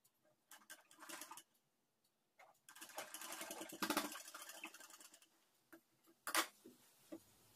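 A sewing machine runs in short bursts and then longer stretches with a fast mechanical ticking, stitching a cross piece onto the neck of a newborn baby's dress, close and alone.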